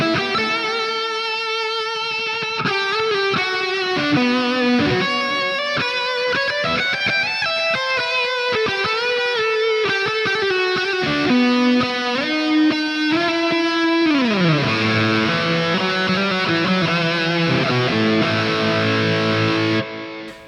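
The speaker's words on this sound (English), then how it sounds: "This is all humbucker tone" An overdriven electric guitar with humbucker pickups plays a flowing lead melody with sustained, singing notes and bends, then slides down to lower held notes; no voices.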